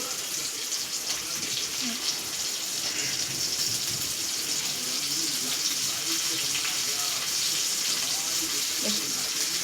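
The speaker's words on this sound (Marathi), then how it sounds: "मंद गॅसवरतीच आपण तळायला ठेवले." Shingta fish pieces coated in semolina, red chilli and salt frying in oil over a low flame, giving a loud, continuous hiss and crackle from close by with no pauses.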